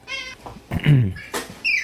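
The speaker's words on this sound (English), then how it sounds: "That's exactly what my cat does. That little squeak." A cat gives several short high squeaky chirps and a throaty trill, close and fairly loud, in quick uneven succession.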